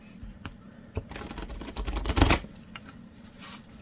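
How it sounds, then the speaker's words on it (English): Playing cards riffled and bridged in a quick flurry of crisp, fluttering snaps, building to a dense burst in the middle before trailing off into a few light taps. "I'll do one more shuffle"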